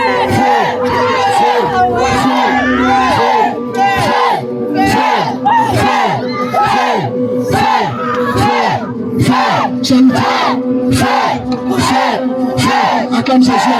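A dense crowd at a charismatic church cell gathering in Toumbokro roars and shouts in acclaim of Jesus, loud and continuous with rhythmic bursts of massed voices throughout.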